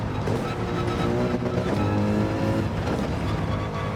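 A race car engine in Gran Turismo 7 revs and accelerates under throttle, its loud tone climbing and shifting through gears, with faint tire noise and no talking.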